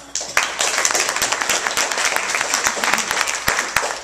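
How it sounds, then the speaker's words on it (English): A crowd applauds steadily, a dense wash of many hands clapping at once, fairly loud and close, holding an even level throughout. "give her a round of applause"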